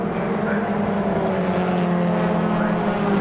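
Toyota MR2 race cars lap Brands Hatch during a championship race, a steady engine drone held at close range through the whole stretch as a commentator talks over it.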